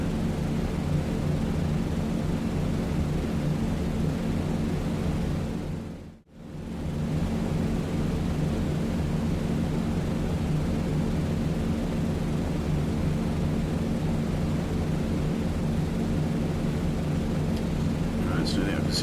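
B-17 bomber engines drone in a steady, loud, dense roar throughout a low-level circuit with the gear down in a flight game, briefly cutting out for a moment before resuming unchanged.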